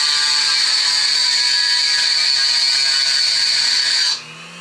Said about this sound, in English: This is a triangle file. We're gonna take just the edge and we're gonna just angle it out a little bit.